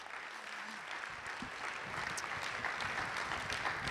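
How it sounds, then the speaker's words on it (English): Conference audience at the Zero Project 2025 opening ceremony applauds, a broad even patter of many hands building gently and holding steady, with a short voice early on. "A huge round of applause."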